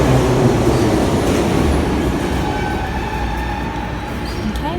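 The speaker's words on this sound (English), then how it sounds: "my train has arrived" A St Petersburg metro train pulls into the station, a loud steady rumble of wheels on rails with rising squeals and clatter as it slows, close and with no voices.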